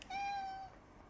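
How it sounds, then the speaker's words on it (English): A cat in a room gives a single clear, drawn-out meow, close and moderately quiet, alone with no talk over it. "We got a cat in the room here."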